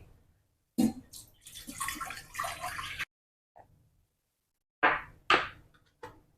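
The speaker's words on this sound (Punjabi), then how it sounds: "ਸਭ ਤੋਂ ਪਹਿਲਾਂ ਇੱਕ ਗਲਾਸ ਪਾਣੀ ਦਾ ਪਾ ਲਈਏ" A glass of water pours briefly and splashes into a cooking pot for about two seconds, followed by a few short knocks and clinks in otherwise quiet surroundings.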